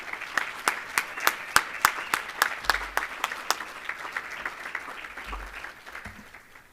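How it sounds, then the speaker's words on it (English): Applause from a modest audience at a college employee recognition and retirement ceremony, a few individual claps standing out in a sharp, rhythmic pattern over a softer spread of clapping that thins toward the end. "Let's give everybody a round of applause."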